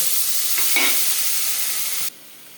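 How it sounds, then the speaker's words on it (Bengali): Turmeric-coated potato pieces fry in oil in a kitchen pan, a close, bright sizzle with a brief spattering burst, stopping abruptly to near quiet just before the end. "আমার আলুটা ভাজা ভাজা হয়ে গেছে।"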